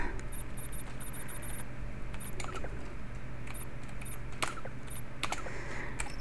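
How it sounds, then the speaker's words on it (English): Fast computer keyboard typing while playing the space game X3 Albion Prelude, with keys clattering in irregular bursts throughout, close and moderately loud over a low steady hum. "So I'm autopiloting all the way here and still using the keyboard."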